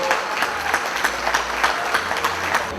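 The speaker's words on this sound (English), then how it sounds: "Let's give them a big round of applause." Audience applause at a gala awards evening: a steady wash of many hands clapping throughout, dense and even, heard from within the room with no talk over it.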